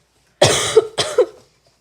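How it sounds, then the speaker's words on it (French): Two sharp, loud coughs in quick succession, very close to the microphone, then silence. "J'ai toussé sur le micro à la place."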